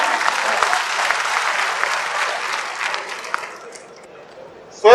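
An audience at a housing society convention in Thane claps in sustained, dense applause that fades over several seconds, ending with a sudden loud bump.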